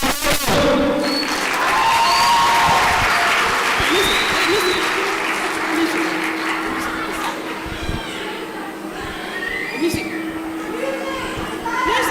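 Audience applause at a refugee community forum show, a broad steady wash of clapping filling the whole stretch, with children's voices and crowd chatter mixed in.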